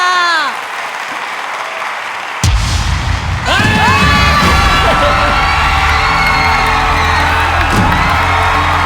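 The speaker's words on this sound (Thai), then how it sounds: "ขอเสียงปรบมือดัง ๆ นะคะ ให้กับคุณต้าค่ะ" A television singing contest audience breaks into loud applause and cheering with whoops for a contestant after a sudden bang, following a stretch of music and a voice; the crowd noise stays dense and sustained.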